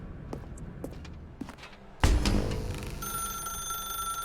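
A telephone rings in The Stanley Parable, a steady electronic tone that starts abruptly after a loud thump and holds on, following a few soft taps and clicks in an otherwise quiet room.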